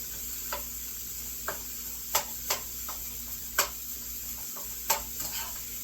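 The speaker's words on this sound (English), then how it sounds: "you cook it until you brown your beef" Ground beef browning in a pan, broken up as it cooks: a steady low sizzle with scattered sharp clicks and scrapes of a utensil against the pan, close and moderately quiet.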